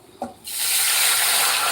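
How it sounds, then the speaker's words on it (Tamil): Water is poured into a pan of browned vegetable curry base and breaks into a loud, steady rushing hiss that starts after a brief knock and continues to the end. "இந்த ஸ்டேஜில் நம்ம தண்ணி ஊற்றிக்கணும்"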